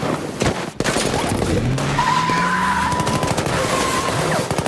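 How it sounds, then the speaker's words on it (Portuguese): A gunfire shootout erupts in the middle of a city street in the film Inception, with sharp shots and bursts mixed with squealing tires and roaring car engines, loud and close. "Começa um tiroteio no meio da cidade"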